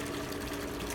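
Water running steadily into a backyard swimming pool, a continuous close rushing and splashing hiss with no pauses.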